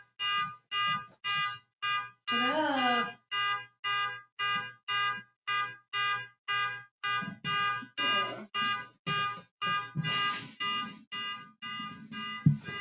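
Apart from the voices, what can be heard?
alarm sounding outside, like a car alarm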